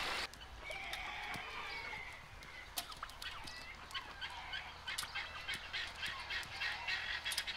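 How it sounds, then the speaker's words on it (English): A Canada goose calls with intermittent nasal honks among other farm birds, mixed with scattered sharp clicks and taps at moderate distance. "So we've got Glenn, the Canadian goose there."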